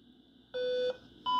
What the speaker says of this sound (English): you can hear the top radio is complaining. It's giving a beep.